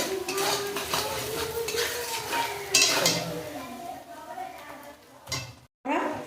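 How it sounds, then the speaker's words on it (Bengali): A metal spoon stirs chili powder into fried onions in fish oil, scraping and clinking against the pan over a faint sizzle, with a brief silent gap near the end and talk mixed in. "লঙ্কা গুঁড়ো দেওয়া সুন্দর করে নেড়ে নেবো"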